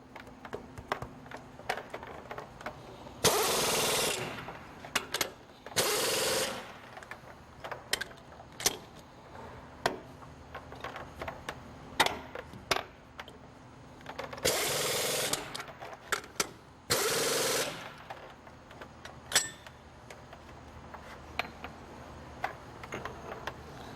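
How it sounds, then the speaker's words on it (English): Bolts being tightened on a Besser Posapac fixture, with sharp metallic ratcheting clanks and clicks scattered throughout and four louder bursts of tool noise standing out near the start and the middle, alone without talk. "Tighten our bolts down in the fixture itself."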